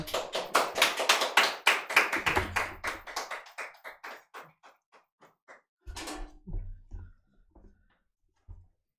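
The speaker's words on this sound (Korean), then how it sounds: "자, 박수하겠습니다." A church congregation claps to welcome a visiting missionary preacher at a Sunday service, starting as brisk, full applause that quickly thins to scattered, fading individual claps, with a few soft thumps near the end.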